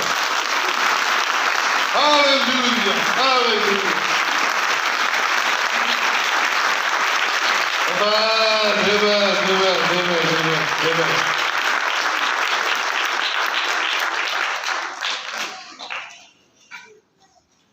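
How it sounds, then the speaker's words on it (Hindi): Church congregation clapping hands together at a Hindi-language Christian worship service, sustained loud applause for most of the span while a preacher's sung and spoken exclamations ring over it, then the clapping fades out near the end. "जितने बरकत पा रहे हैं जरा यीशु के नाम से ताली बजाकर दिखाना है।"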